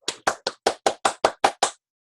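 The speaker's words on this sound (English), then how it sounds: "The class claps and claps." A class of students claps in unison, nine sharp, evenly spaced claps in quick succession, loud and close, then silence.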